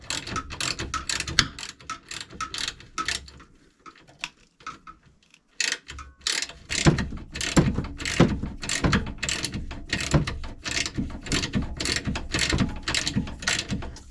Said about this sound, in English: Not real pleased with how well my ratchet's not staying on.